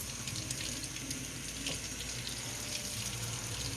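Tap water runs steadily over a pineapple being rinsed at a kitchen sink, a continuous even hiss that is fairly faint and carries no talk.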